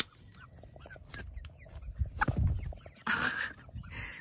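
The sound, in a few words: chickens clucking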